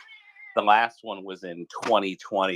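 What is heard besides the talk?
cat meowing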